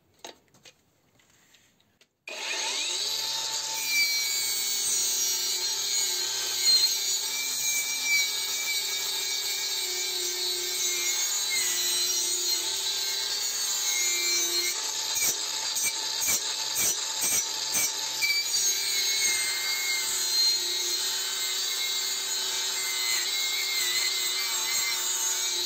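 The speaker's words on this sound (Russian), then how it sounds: "почистим мы ее вот такой щеткой-ёршиком" After a brief quiet start, a continuous rough rubbing and scraping goes on close by, like a stiff brush scrubbing inside a pipe, with some rapid rhythmic strokes.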